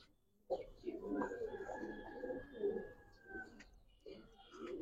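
Giribaz and coloured pigeons cooing inside a loft, soft repeated burbling coos close by, overlapping in a continuous murmur with brief pauses.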